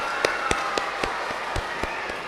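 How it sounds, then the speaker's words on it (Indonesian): Congregation clapping for Sunday school teachers at an HKBP church Christmas celebration in Cimanggis: a steady crowd applause bed with sharp claps punching through at a regular, almost rhythmic pace, and a faint tone underneath. "mari kita juga tepuk tangan buat mereka."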